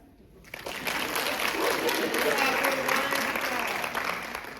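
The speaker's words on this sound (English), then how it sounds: "Clap." A burst of applause from an audience swells quickly and holds steady for several seconds before starting to taper off.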